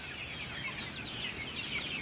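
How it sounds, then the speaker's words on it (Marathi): Free-range country chickens on a farm of several thousand birds, heard as faint scattered clucking within a steady background hum. "सगळीकडे गावठी कोंबडेच तुम्हाला बघायला मिळतील"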